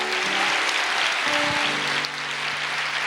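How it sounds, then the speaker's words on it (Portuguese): Dense, steady applause from a church congregation during a worship service, filling the space evenly for the whole stretch with a faint hum underneath and no voices over it. "Pode aplaudir o Senhor"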